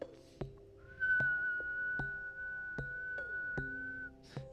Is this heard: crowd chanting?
no